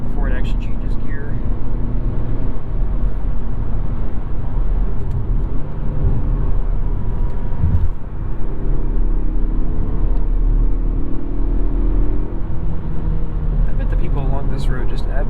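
A 2023 Mazda3 Turbo AWD hatchback drives hard on a winding road, its engine droning loudly and rising through the revs with gear changes, while people talk over it inside the cabin.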